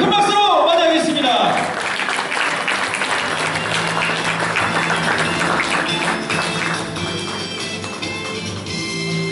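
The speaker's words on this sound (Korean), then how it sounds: "우리 한국경찰일보 손창길 회장님을 큰 박수로 맞이하겠습니다" Large audience applauding at length at a Korean police merit award ceremony marking a police newspaper's 30th anniversary, dense steady clapping that slowly thins toward the end, with a voice over it at the start.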